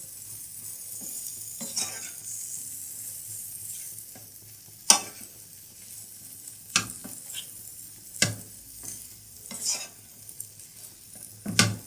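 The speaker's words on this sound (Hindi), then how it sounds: "अब 1 से 2 मिनट के लिए इन सारी चीज़ों को फ्राई कर लेंगे।" Samosa filling ingredients sizzle softly in a pan on a medium-low flame, with a spoon scraping and clinking against the pan in several sharp, separate strokes over the steady frying hiss.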